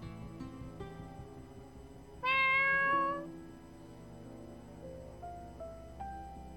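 A black cat meows once in the video game Fatal Twelve, a single clear, drawn-out cry over a quiet musical background with soft tones continuing after it.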